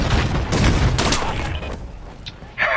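Gunfire from the video game Battlefield 6: a dense, loud burst of rapid shots and reports over the first two seconds, tapering off to quieter scattered sounds at the end.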